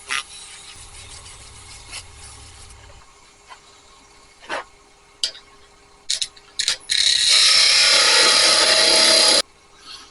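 A wood turning spins on a lathe while scattered knocks and scrapes are heard, then sandpaper pressed to the piece gives a loud, steady hiss for about two and a half seconds before it stops.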